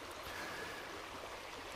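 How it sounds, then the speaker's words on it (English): The Devil's Brook, a clear chalk stream with a gravel bottom at Dewlish in Dorset, flows in full spate with a steady, soft rushing and trickling, quiet and unbroken, with no voices. "Now, this here by me is the Devil's Brook in full flow."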